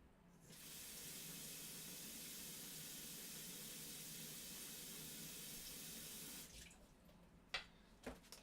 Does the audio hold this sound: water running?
yes